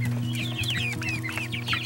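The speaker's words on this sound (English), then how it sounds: "chicks are roughly 6 weeks old" Six-week-old chicks in a shed being converted into a chicken coop, clucking and cheeping in a steady, busy chorus of overlapping calls over a constant low hum.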